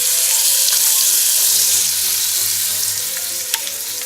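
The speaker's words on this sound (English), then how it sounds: "So we're going to sear it until the meat is browned on all sides." Beef searing in hot oil in a pan for barbacoa shredded beef tacos, a loud, continuous sizzle that stays up close and steady throughout, with a brief scrape near the end.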